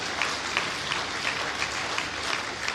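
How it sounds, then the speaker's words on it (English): Audience applause at an induction ceremony for new professional members, a steady dense wash of clapping that fills the room at moderate level with no talk over it. "We should give him a round of applause"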